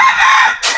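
A short, loud rooster crow rings out, bright and close, ending abruptly with a brief squawk.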